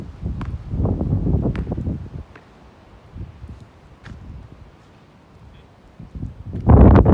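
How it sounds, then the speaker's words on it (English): Gusty wind buffets the microphone in rumbling bursts, strongest at the start and end, with quieter lulls between. "The wind has just picked up."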